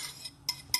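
A utensil clinks twice against a frying pan while eggs are mixed, two quick metallic taps close by with little else around them.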